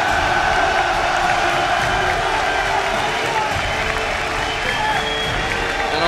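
A large esports tournament crowd at an All-Star grand final applauds and cheers loudly and continuously, a dense wash of clapping with scattered whoops filling the arena.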